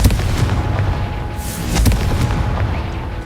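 Confringo fire spell in the video game Hogwarts Legacy, a deep booming explosion with rumbling low end, followed by a second sharper burst midway, loud and close with no speech.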